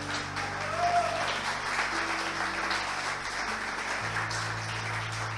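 A church congregation claps in steady, moderately loud applause. A low sustained tone, probably from an organ or keyboard, holds beneath it.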